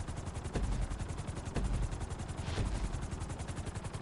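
A helicopter in GTA 5 beats out a steady, rapid rotor chop that stays loud and close, with a few heavier thumps standing out along the way.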